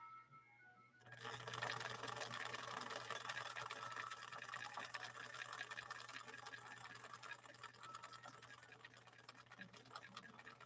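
A 1961 Viki sewing machine stitching fragile Sulky 40 wt rayon embroidery thread at slow speed, a steady close-up mechanical whirring and rapid needle clatter that starts abruptly and runs continuously.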